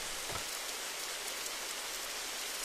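Steady rain falls in the driving game Jalopy, a continuous, even hiss of drops on the ground with no other sounds over it.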